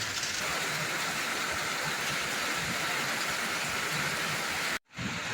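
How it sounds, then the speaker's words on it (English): Dense, steady broadband hiss of heavy spring rain pouring continuously, with water coming off a roof, cutting out abruptly for a moment near the end before resuming. "Crazy rain."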